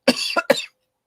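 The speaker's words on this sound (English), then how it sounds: "I'm going to cough." A single close cough bursting into two or three quick rough hacks, loud and sharp, followed by silence.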